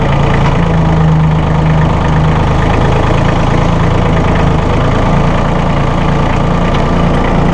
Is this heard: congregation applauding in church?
no